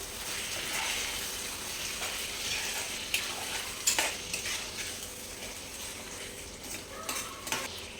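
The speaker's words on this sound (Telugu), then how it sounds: "ఇప్పుడు ఇందులోకి సాల్ట్ వేసుకున్నామండి. నేను 2 స్పూన్స్ వేసుకుంటున్నా. ఒకసారి కలుపుకుందాం." Chicken curry with green masala and two spoons of salt being stirred in a pot, a steady soft sizzle under occasional scraping clinks of the spoon against the metal, close and fairly quiet with no talking.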